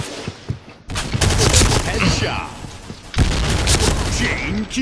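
Gunfire in the Point Blank shooter on a warship map, rapid bursts of rifle and light machine gun shots in two dense volleys, loud and close, with a short pause between them.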